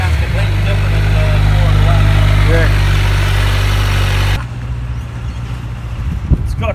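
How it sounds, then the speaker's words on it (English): A 2020 Kawasaki Ninja 1000SX sport motorcycle runs close by with a loud, steady engine rumble for several seconds, then drops to a quieter idle. "Give her a rev, Dino."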